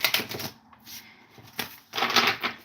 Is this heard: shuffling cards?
yes